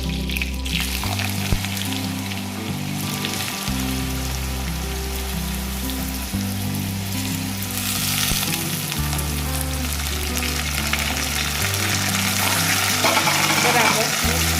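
Finely chopped potatoes with curry leaves hit hot oil for sabudana khichdi, giving a loud, steady, rain-like sizzle that runs unbroken throughout beneath background music.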